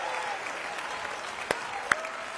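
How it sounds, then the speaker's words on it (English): A church congregation claps and cheers during a sermon, a dense, steady wash of applause from a large crowd, with a couple of sharper claps standing out near the end. "Let a hand clap be in your hand today."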